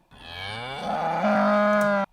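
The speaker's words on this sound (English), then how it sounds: "I used the sound of a cow just from YouTube somewhere." A single sustained cow moo, loud and close, rising in pitch and holding steady for about two seconds before cutting off abruptly, heard alone with no talk.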